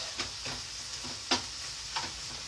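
A spatula stirs a quick lunch in a frying pan, giving faint scrapes and light taps every half second or so over a soft, low sizzle, with no talk.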